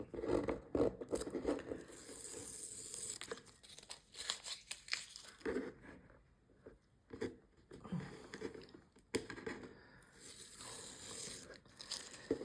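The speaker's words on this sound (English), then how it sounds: "So pull the tape away from you." Masking tape peeled off the edges of a small sunset fishing mini painting, a series of close, crackly tearing and ripping strips with short pauses between pulls.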